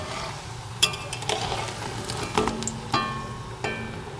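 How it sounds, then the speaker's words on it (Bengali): Semolina and potato snacks frying in hot oil until golden red, a steady close sizzle with occasional clinks and scrapes of a utensil against the pan, no voices. "খুব সুন্দর লাল লাল করে ভেজে নিয়েছি"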